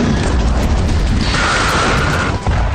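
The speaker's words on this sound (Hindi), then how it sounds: "धमाके का यह वीडियो सीरिया में मौजूद हामा प्रांत के मस्याफ शहर का है" Explosion from an airstrike in Masyaf, Hama province, Syria, heard as a loud, continuous roaring rumble with deep booming energy throughout, no talk.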